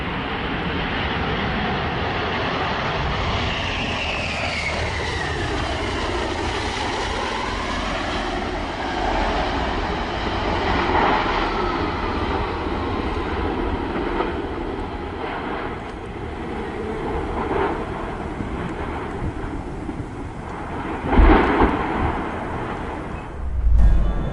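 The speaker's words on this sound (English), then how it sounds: "Air crash of the Russian bomber on takeoff." A Russian bomber crashes on takeoff. Its roaring engines swell and shift in pitch as it passes, then a couple of heavy thumps near the end.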